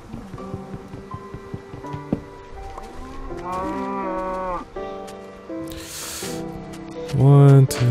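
Cows in the video game Minecraft moo repeatedly, several drawn-out lowing calls overlapping a busy game soundscape with clicks and effects, the last moo loud and close.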